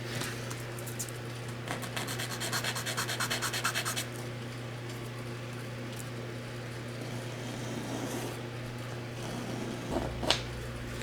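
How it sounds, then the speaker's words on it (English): Small cut pieces for a scale RC drift car body, a BMW E30 Touring, are rubbed over sandpaper in quick rhythmic back-and-forth strokes up close, with steadier scraping and a faint background hum. "We'll clean them up with a little bit of sandpaper"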